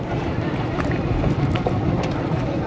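A wooden-hull boat runs at sea with a steady low rumble and continuous wind and water noise, with no voices.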